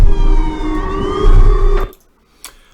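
A loud, wailing siren from the Siren Head creature, with rising harmonic tones, holds steady, then cuts off abruptly, leaving near silence and one short distant burst.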